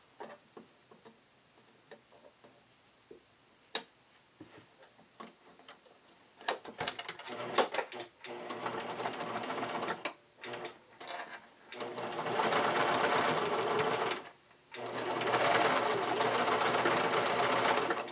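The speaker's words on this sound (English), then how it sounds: "I'm just going to use a tight zigzag stitch to stitch that in place." A sewing machine runs a tight zigzag stitch over fold-over elastic on a bodysuit, in several close, buzzing bursts that start and stop, after quiet handling clicks.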